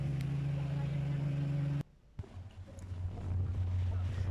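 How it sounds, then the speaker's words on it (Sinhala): A boat speeding across the water on an evening safari near Trincomalee, its steady engine drone and rushing water loud and close, briefly dipping before resuming with wind buffeting the microphone. "බෝට්ටුවත් යනවා මාර හයියෙන්."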